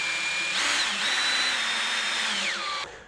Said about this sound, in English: we just have to screw it together